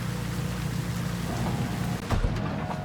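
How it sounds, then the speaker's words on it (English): Steady heavy rain in the video game Cyberpunk 2077 pours as a dense, continuous hiss over a low rumble, with a brief louder thump near the end and no voices. "I wouldn't stand out in the rain."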